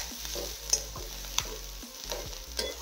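Chighal leaf bhaji being stirred in a pan, with a steady close sizzle under repeated scraping strokes of the spoon and a few sharper clinks against the metal, no voices.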